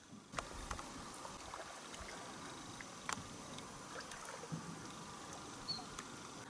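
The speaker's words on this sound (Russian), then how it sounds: "Гребля лодкой, на лодке." Oars work a boat on open water, faint soft splashes and occasional knocks over a quiet steady hiss of water and air, at a distance and without talk.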